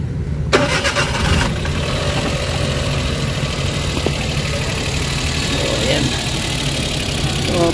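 A Suzuki Wagon with a P0301 misfire is cranked and started, then settles into a steady, slightly uneven idle running loud and close throughout.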